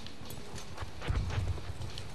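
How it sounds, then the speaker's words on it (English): Horse hooves clatter at a gallop in the Sinai desert of the video game Battlefield 1, a short burst of rapid thuds that swells briefly in the middle over a continuous background wash. "Oh, another horse."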